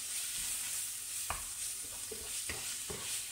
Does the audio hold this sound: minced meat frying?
yes